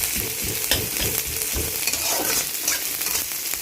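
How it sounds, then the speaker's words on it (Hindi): Chopped onions fry loudly in a little oil for a lobia curry, a dense, continuous close-up sizzle with scraping stir strokes and no talk. "प्याज डाल दिया हमने और ये थोड़े ब्राउन हो जाए तब तक इसे भूनना है"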